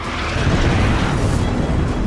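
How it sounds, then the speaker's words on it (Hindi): A loud, rumbling blast from an Israeli strike in Beirut, Lebanon, roars throughout, a dense continuous boom with no voices. "ये धमाका देखिए और इसकी आवाज सुनिए।"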